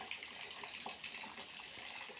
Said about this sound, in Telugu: అలా అయితే కాలువల నుంచి అయితే వాటర్ వెళ్తున్నాయండి.